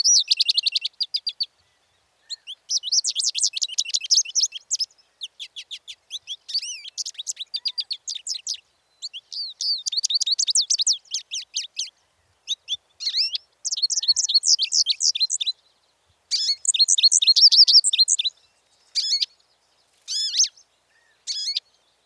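An American goldfinch sings a series of high, twittering, warbling phrases in short bursts with brief pauses, clear and close against a silent background.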